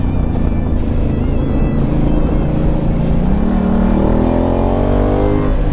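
A maxi-enduro motorcycle on Metzeler Karoo tyres accelerates hard, heard as a loud, close engine drone whose pitch climbs steadily through the gears, with no talk.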